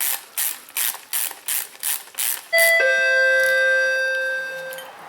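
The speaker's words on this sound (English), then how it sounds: "Turn that on just in time to catch a ding dong" A doorbell sounds a clear two-note ding-dong chime that rings out and slowly fades. Just before it, a ratchet wrench clicks in a quick series during a Honda Ridgeline cylinder head installation in a garage.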